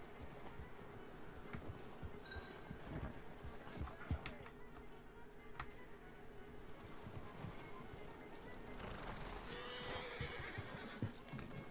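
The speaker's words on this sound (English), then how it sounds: "Give my horse a hitching." Horse neighing and hoof clops from the video game Red Dead Redemption 2, heard at moderate level over a busy game ambience with a steady low hum and scattered clatter throughout.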